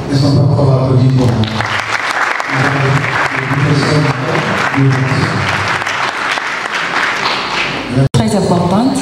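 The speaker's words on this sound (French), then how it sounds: "Est-ce qu'on peut encore applaudir pour" Audience applause at a talk on the Maputo Protocol and abortion law in Congo-Kinshasa, loud and sustained across the hall, with voices and musical tones mixed through it and a brief cut near the end.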